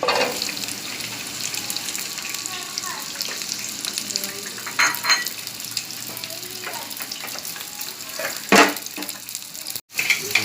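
Dragon chicken frying in hot oil, a steady close sizzle with occasional louder bursts and brief clinks of a utensil, continuous throughout.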